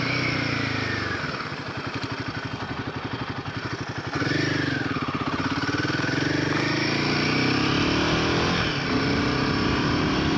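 A Royal Enfield Himalayan 450 motorcycle's engine and intake drone steadily while riding, rising and falling in pitch through acceleration and gear changes, loud and close with wind rush underneath.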